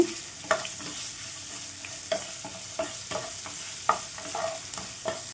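Chopped onions sauté in a pan with a pinch of salt, a soft steady sizzle broken by repeated sharp scrapes and taps of a spoon stirring, close up and free of speech.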